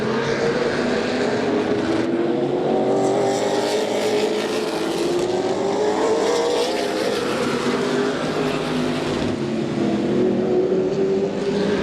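Race cars lapping during a race, engines whining and rising and falling in pitch as they pass, with a continuous loud roar.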